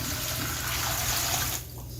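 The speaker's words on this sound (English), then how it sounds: "I'm going to fill it up with about 40 cups of water" Water from a tap runs steadily into a large stock pot for making turkey and rabbit stock, a loud continuous rushing pour that drops off sharply near the end.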